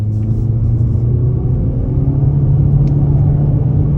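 A 2022 Toyota C-HR XLE accelerates at about half throttle, giving a loud, steady engine rumble heard from close by with no talking.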